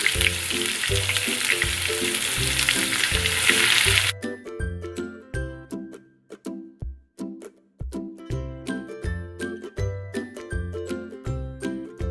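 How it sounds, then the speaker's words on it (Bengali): Chopped onion hits hot oil for a prawn dopiaza and sizzles loudly and steadily for about four seconds, then the hiss abruptly falls away, leaving rhythmic tinkling musical tones with no talking. "প্রথমে পেঁয়াজ কুচিটা দিয়ে দিলাম"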